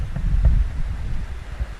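Low, gusty wind buffets the microphone in uneven rumbling pulses, with no voices present.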